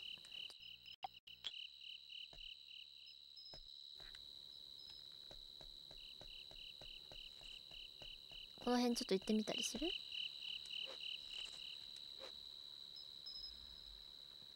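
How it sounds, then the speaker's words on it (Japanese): Bell crickets in the summer countryside of the video game Boku no Natsuyasumi give a steady, high, pulsing chirp that runs throughout. Someone speaks briefly over it and a louder burst of other game sounds comes midway. "鈴虫系が取れる"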